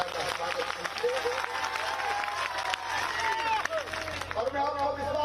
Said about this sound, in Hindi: एक बार जोरदार ताली बजा के सचिन बिरला का स्वागत कीजिए